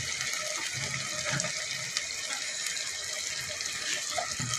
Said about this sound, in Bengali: এখন একটু সামান্য পানি দিয়ে দিচ্ছি।